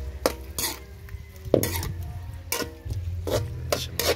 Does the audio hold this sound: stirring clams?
yes